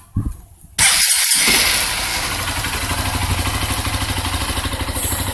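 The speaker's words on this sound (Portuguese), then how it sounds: "E eu vou dar uma ligada aqui na moto agora" A motorcycle with its original stock exhaust cranks briefly and fires up with a loud burst, then settles into a steady, pulsing idle close by.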